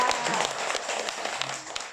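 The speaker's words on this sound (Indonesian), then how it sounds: "Tepuk tangan dulu." Prayer-meeting congregation clapping hands together indoors, a brief burst of many claps with scattered sharper hand strikes over two seconds.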